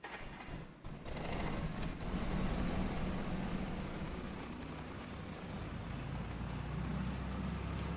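A Cessna 172 engine starts in a flight simulator, a brief crank giving way to a steady droning idle rumble that holds loud and even throughout, with no voices.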